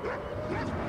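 A dog in the video game Watch Dogs 2 barks and whimpers amid dense game noise, a brief, continuous yelping burst.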